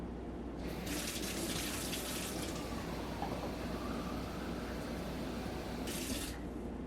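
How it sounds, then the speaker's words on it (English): Hot water runs from a tap into a Turkish coffee pot, a steady close gushing stream that goes on throughout, loud and even, with a brighter splashing hiss at the start and again near the end. "You're gonna fill it with hot water."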